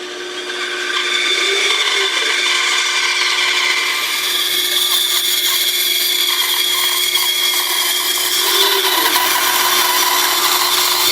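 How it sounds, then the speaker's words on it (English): A bandsaw cuts out a wooden pattern, a loud steady motor hum and blade whir with a rasping cut that runs continuously and fairly close. "then you go on the bandsaw and cut them out"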